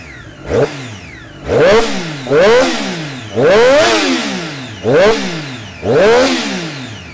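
A 2017 Triumph Daytona 675R motorcycle engine revving hard toward 10,000 RPM, five loud rising blips that each fall back to idle, close and alone.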